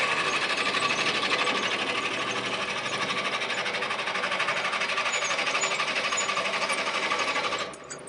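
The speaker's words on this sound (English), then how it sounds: "So I'll slow it down a little bit for drilling." A wood lathe slowed down for drilling runs with a steady, buzzing mechanical drone as a bit grinds into a wooden hollow form, close and continuous, easing off near the end.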